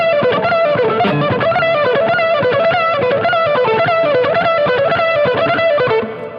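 A distorted, effects-laden electric guitar plays a fast, dense lead lick with string bends. It rings loud and continuous before fading at the end while someone speaks briefly.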